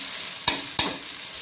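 Tomatoes sautéing in a pan for tomato rice, a soft steady sizzle with two sharp stirring clinks from a spoon against the pan.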